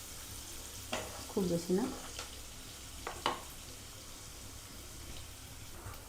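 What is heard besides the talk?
onions lightly frying in a pan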